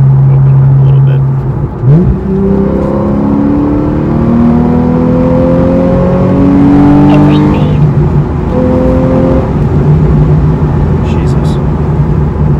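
A Porsche 911 fitted with an IDP plenum accelerates hard through the gears to about 6,000 rpm, rising engine tones stepping up with each shift, loud from inside the car with a voice speaking over it.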